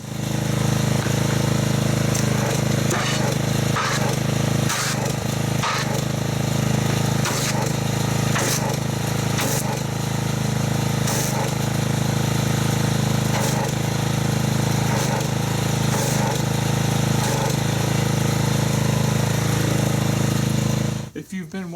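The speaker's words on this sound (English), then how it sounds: "So let me get the pressure washer and let's see how well this soap foams up." A gas pressure washer runs during a car wash with a continuous, loud engine drone up close, broken by regular sharp bursts, before cutting off abruptly at the end.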